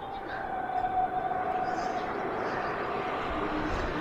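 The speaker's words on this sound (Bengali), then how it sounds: "ট্রেন যাওয়ার আওয়াজ পাওয়া যাচ্ছে" Low rumble of a train passing at some distance, with a sustained horn-like tone drifting over the steady noise.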